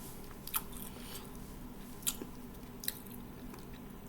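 Close chewing of Banquet fried chicken with crunchy skin from a frozen chicken and mashed potatoes meal, soft steady mastication punctuated by three sharp crunchy bites, no talk.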